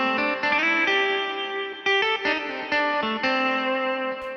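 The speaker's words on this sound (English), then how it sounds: "you can hear the delay is a lot heavier. Echo, echo, echo" Yamaha Genos 2 arranger keyboard playing sustained synth notes through a heavy delay, each phrase trailing off in clear repeating echoes, close and fairly loud with no voices.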